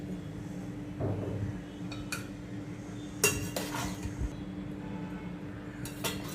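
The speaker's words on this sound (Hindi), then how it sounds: "चलिए अभी सर्विंग प्लेट में डालती हूँ।" Vegetable biryani being served from a cooking pot onto a serving plate, with a few light metallic clinks and scrapes of a utensil against cookware over steady low background hum, no talking.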